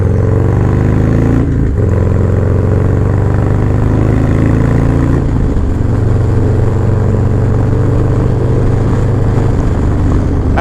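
A Harley-Davidson Low Rider ST motorcycle rides onto the BQE in New York City, its loud close engine rumbling and pulsing steadily, with brief shifts in revs, and no one talking.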